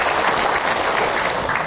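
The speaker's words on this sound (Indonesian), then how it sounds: "Tepuk tangan buat Bunda yang bertanya" An audience claps steadily for a woman who just asked a question at an Islamic religious lecture, the dense applause filling the room evenly without pause.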